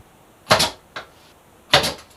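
A pin nail gun fires into a wooden door, two sharp, near bursts with a fainter click between, each ending quickly in quiet.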